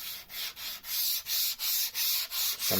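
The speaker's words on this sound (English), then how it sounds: "Give them a quick sand." Hand sanding of a narrowboat battery box with rhythmic back-and-forth strokes, about eight steady rasping passes with brief pauses between, close and fairly quiet.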